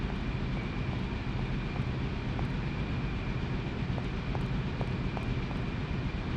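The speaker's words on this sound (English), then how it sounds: "can hear the machinery whirring." Machinery whirs steadily in the video game Syberia, a dense, constant low drone with a faint tonal hum and soft periodic ticks, close and unbroken throughout.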